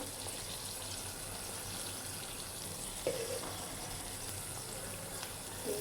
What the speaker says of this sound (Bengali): এবার পানি দিয়ে দিব পরিমাণ মতো, বেশিও না কমও না